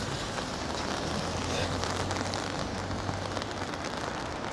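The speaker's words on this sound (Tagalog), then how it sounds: "Umuulan pa rin po mga ka-wonder." Rain falls on a street in Osaka at night, a soft, even patter with a low hum running steadily underneath.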